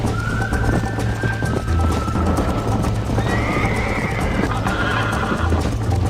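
A horse gallops in the video game Red Dead Redemption, steady rapid hoofbeats with neighs and whinnies over a constant low rumble, loud and close with no talk.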